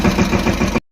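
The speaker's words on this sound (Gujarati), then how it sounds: "પછી શું ટ્રેક્ટર લઈને આપણે હાલતા થઈ ગયા વાડી બાજુ" A tractor engine runs with a steady, rumbling mid-pitched drone, close and loud, before cutting off abruptly.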